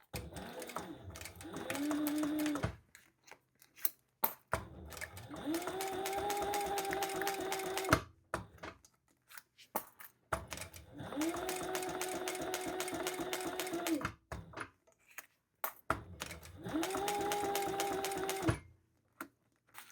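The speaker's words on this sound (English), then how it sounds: "This leather sews very nicely." A sewing machine stitches leather for a crossbody bag, running in four steady rhythmic bursts of a few seconds each, separated by pauses filled with small clicks and handling noises.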